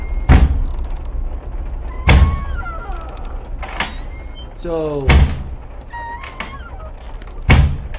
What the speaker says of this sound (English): Door seems to be stuck.